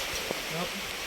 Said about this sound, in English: Then the rain decided to fall on us.